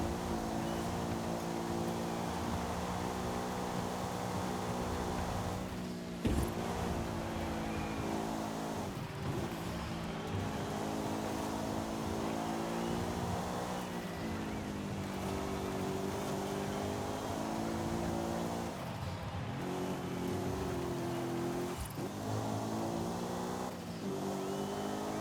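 A long-geared car in Forza Horizon 5 slowly spools up, its engine droning and revving steadily with a few gear-change dips, continuous and fairly loud, with no speech.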